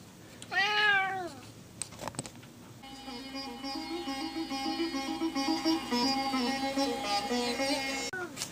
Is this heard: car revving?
no